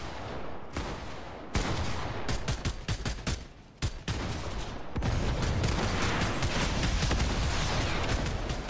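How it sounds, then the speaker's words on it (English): Gunfire in Fortnite rattles at the player in fast, dense volleys of sharp cracks, loud and nearly continuous, with the shots merging into a steady barrage toward the end. "Somebody is shooting at me."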